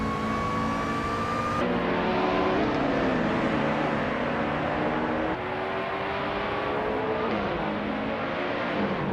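Race cars, including a Peugeot 308 and a Ford Focus ST, drive on a track with tight corners, engines droning and rising in pitch as they accelerate, shifting abruptly between cars in a steady loud whir.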